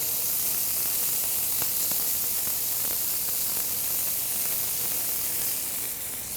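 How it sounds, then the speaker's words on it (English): Wagyu beef and fat sizzle on a hot Fusion griddle in a loud, steady, broadband hiss that stays constant and close throughout. "That beef and fat hitting the hot griddle."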